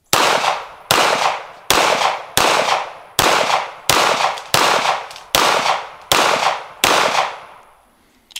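Ten evenly spaced pistol shots from a 2022 FN Hi-Power ring out at an outdoor range, each a sharp, loud crack with a brief decaying tail, fired at a steady rhythm roughly one per second.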